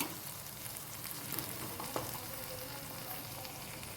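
Tomatoes and chilli fry in a pan while being stirred, giving a steady, fairly quiet sizzle with faint scraping touches throughout and no voices.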